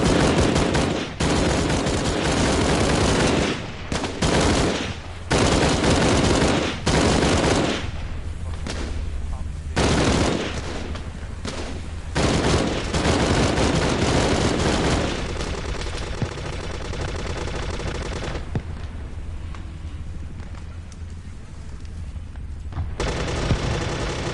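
Sustained covering gunfire in the Halo video game, loud and close, with rapid continuous bursts broken by brief pauses, then a steadier stretch of firing with softer background game sounds.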